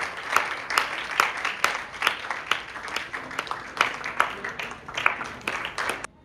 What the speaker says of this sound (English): give him a round of applause for the winners